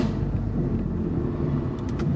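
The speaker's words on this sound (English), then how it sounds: "how aggressive the downshifts sound. Like this is from fourth to third," BMW F8X with secondary catalytic converters removed, exhaust on an aggressive downshift at low revs: a steady, deep, close rumble that holds throughout without clear pops or sharp bursts.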